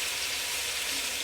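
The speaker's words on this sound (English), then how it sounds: "as you can see, it's browning and it's frying" Olive oil frying and browning ingredients for split pea soup, giving a steady, bright, close-up sizzle with no break.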